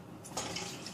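Hot tap water is poured into a cooking pot in a home kitchen, a soft, steady splashing and trickling that stays faint and close throughout, with no voices.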